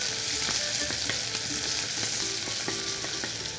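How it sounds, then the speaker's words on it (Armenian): Very hot cooking oil sizzling in a pan before onions go in, a continuous close hiss with scattered small pops and crackles at an even level. "Դաղվեց ձեթը"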